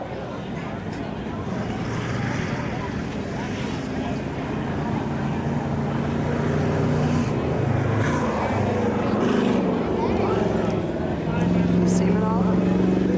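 NASCAR stock cars circling the track at Baer Field Speedway during a 1995 night race, a steady roar of engines with passes rising and falling over a constant crowd-and-track din.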